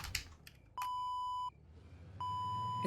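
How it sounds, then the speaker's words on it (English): A truck in the trading video game Trader Life Simulator beeps twice, with each electronic tone held steady for under a second and separated by a brief pause. "It's beeping at me."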